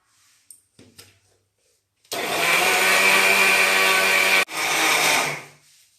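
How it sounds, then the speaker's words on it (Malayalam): A few light clicks, then a mixer grinder roars into a loud, steady whir while blending powdered sugar, milk powder and ghee, cuts out briefly and spins up again before winding down. "ഇനി നമുക്കിത് മിക്സിയിൽ അടിച്ചെടുക്കാം."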